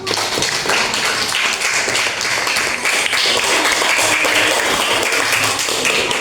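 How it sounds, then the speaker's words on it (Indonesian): Schoolchildren in an elementary classroom clap their hands together, a dense, steady patter of many small hands filling the room loudly for the whole stretch. "Ayo semuanya tepuk tangan."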